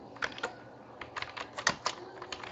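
Steady, quick typing on a computer keyboard, with close, crisp key clicks in uneven bursts and a faint hum underneath.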